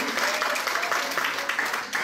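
Applause from a church service congregation, steady clapping throughout, fairly distant and mixed with a faint voice.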